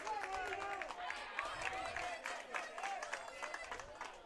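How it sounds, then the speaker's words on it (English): Spectators clapping at a 14U youth baseball game, a steady spread of applause and crowd noise heard at moderate distance under a talking voice. "Wait, I hear some clapping."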